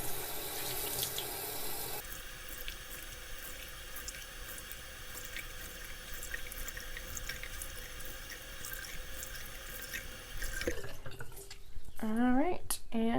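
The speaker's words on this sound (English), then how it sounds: "I'm just going to run my sponge underwater and kind of do that squeezing motion just to rinse all the soap out" Running water from a tap streams steadily over a makeup sponge as it is rinsed and squeezed, with wet splashing and a change in the flow partway through, followed by squishing and handling noises near the end.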